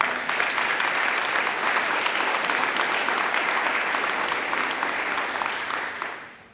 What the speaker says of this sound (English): And so I just want to give one more round of applause to Congresswoman Slotkin.